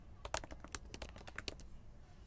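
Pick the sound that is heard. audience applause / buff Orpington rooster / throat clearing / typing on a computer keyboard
typing on a computer keyboard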